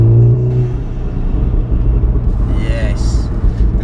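A remapped VW Golf R with a DSG gearbox rumbles steadily, with faint exhaust overrun crackles near the end, heard from inside the car while a person talks over it.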